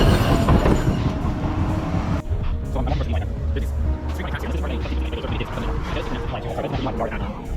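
Boston T subway train riding toward Chestnut Hill Avenue, a steady loud rumble of the car with rattling wheels and clatter filling the whole stretch, with talk mixed in.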